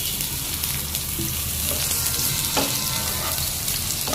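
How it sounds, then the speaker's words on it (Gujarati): A whole onion fries in hot oil with ginger and garlic for a dhaba-style paneer masala, producing a loud, steady hiss and sizzle that runs unbroken throughout, with occasional stirring clicks. "ચડી રહી ડુંગળી."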